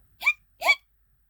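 A voice imitates a cartoon skeleton's hiccups during a read-aloud of a children's picture book, two short, sharp hiccup sounds about half a second apart, close and clear against silence.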